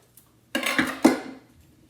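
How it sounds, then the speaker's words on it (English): A knife slicing an apple cleanly in half on a cutting board, giving a short close crunch followed by a firm tap of the blade meeting the board, alone in a quiet room. "So you can take an apple and you can cut it exactly in half."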